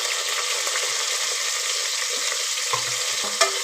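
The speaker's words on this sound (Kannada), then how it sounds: "ಈ ಥರ ಮೊದಲನೇ ನಾವು ಒಗ್ಗರಣೆ ಕೊಡ್ತಾ ಇದ್ದೀವಿ" Chopped onion, tomato and curry leaves sizzle in hot oil for bisi bele bath while a spoon stirs them. A steady close frying hiss continues, with a couple of clinks of the utensil near the end and no voices.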